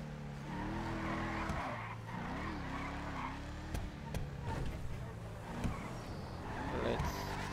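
Mamba sports car in GTA 5 Online driving and revving, engine tones rising and falling with tire squeal and skidding, loud and continuous, with a person talking over it.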